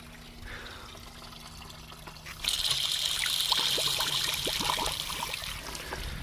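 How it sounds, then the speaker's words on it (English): Water pours from the radiator outflow of an abandoned 1985 Mercedes 300CD. After a quiet start it bursts into a splashing, trickling stream that keeps running close by. "As you can see down in there, it is pouring out of the outflow."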